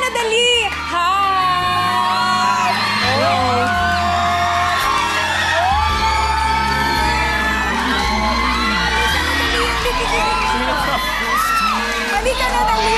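A crowd shrieks and yells continuously at an indoor game-show taping, a dense wall of high-pitched screams and whoops, with a few shouted voices mixed in.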